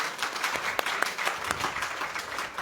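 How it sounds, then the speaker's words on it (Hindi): An audience applauding during a talk on the Bhagavad Gita, a fairly faint, steady spread of many hands clapping with a few sharper claps standing out. "उनके लिए ताली बजाइए"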